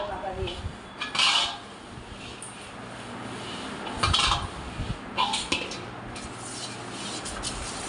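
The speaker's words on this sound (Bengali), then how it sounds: "এভাবে তেল আর পাতা দিয়েই মাজতে হবে" Puja brassware scrubbed by hand with oil and leaves, bursts of metallic rubbing and clinking of brass pieces recurring over a low steady background, no talk.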